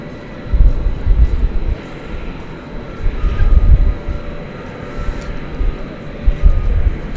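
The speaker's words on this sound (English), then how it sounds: "Got another flight coming in from Sin City, Las Vegas, flight 2603, an Airbus A321," An American Airlines Airbus A321 on flight 2603 from Las Vegas comes in to land at DFW Airport at night, a low rumbling engine drone that swells and eases in waves.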